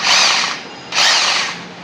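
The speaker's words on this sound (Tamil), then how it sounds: "இந்த சுவிட்சை ப்ரெஸ் பண்ணி நீங்கள் திருப்பினீங்கன்னா இது வந்து ஹேமர் ட்ரில்லிங்கு" A hammer drill running in hammer drilling mode gives a loud, close, high-pitched whine with a dense rattle. It cuts out briefly near the middle, then starts again at full speed and runs alone with no talk.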